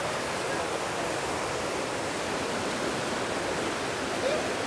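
A waterfall at the base of a mountain in Lombok, Indonesia, roars as a dense, continuous wash of falling water, loud and steady throughout with no distinct breaks.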